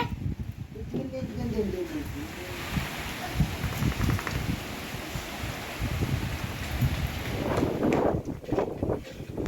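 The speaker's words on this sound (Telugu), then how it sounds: "ఇంకా వర్షం అయితే పడుతుందన్నమాట." Steady rain falls outdoors in a village, a continuous broadband patter and hiss running through the whole stretch, with voices talking over it in the middle and toward the end.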